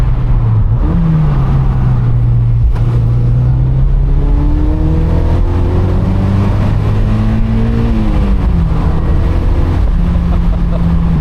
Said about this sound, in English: Let's do third gear this time and see what the mid-range is like.